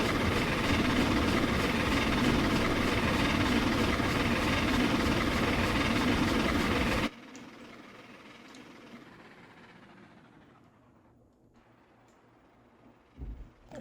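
A4 Pacific class steam locomotive in Train Simulator Classic rushes past in a loud, dense roar that cuts off abruptly midway, leaving a faint fading rumble and a brief thump near the end.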